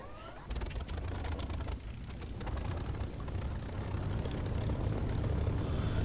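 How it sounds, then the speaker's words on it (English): A piston aircraft engine in the DCS flight simulator cranks, catches and settles into a steady, loud, rumbling idle that holds throughout, with no talking. "And the engine sound you're hearing is not from DCS."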